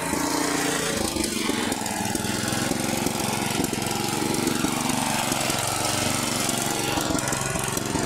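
A VAP 630 tiller (motoculteur) engine restarts and keeps running, a loud continuous close-up rattling chug with no pauses.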